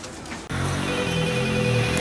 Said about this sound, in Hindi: जरा रुक, किसी का फोन आ रहा है।